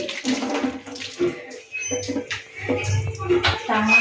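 Water from a bucket splashes and pours while a kitchen is being washed, in irregular close splashes and trickles, with a voice speaking over it.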